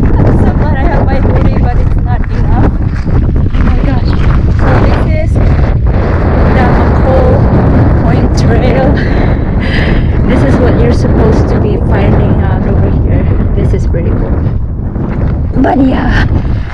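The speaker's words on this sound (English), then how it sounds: "The wind is blowing really good." Strong cold wind buffeting the microphone outdoors, a loud continuous roar with gusts, with people talking throughout.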